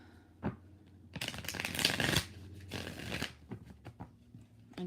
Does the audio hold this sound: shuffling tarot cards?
yes